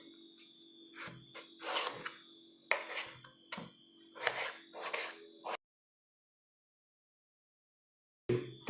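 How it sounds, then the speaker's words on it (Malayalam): Knife slicing through a tomato on a cutting board in a Kerala kitchen, with several crisp, rhythmic cutting strokes over about five seconds, then silence and one final cut. "തക്കാളി ഇതുപോലെ കട്ട് ചെയ്യാം"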